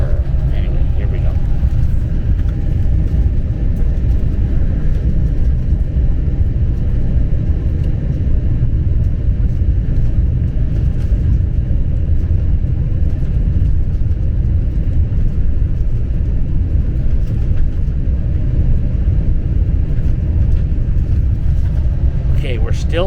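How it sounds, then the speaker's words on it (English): A passenger airliner taxis toward its takeoff runway on a return trip from Varadero, Cuba, its steady loud engine rumble droning low and constant throughout, with a few faint cabin noises over it. "Okay, we're still taxiing towards our takeoff runway."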